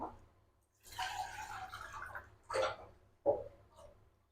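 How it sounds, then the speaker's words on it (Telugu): A faint, steady stream of water pours into a pot for about a second and a half, followed by two brief splashes. "గిన్నె పెట్టేసుకుందాం వాటర్ పోసుకుందాము"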